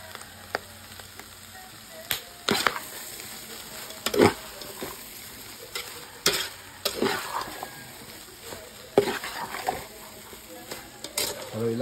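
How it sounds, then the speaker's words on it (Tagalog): A spoon stirs papaitan stew in a metal pot, giving intermittent scraping clanks and knocks in irregular bursts against a soft background hiss, close and fairly loud. "Haluin lang po natin."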